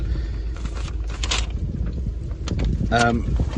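Gusty wind rumbles and buffets steadily outdoors beside a Fiat 124 Spider 1.4 MultiAir Lusso Plus, with someone talking close by throughout.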